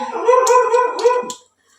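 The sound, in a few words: puppy barking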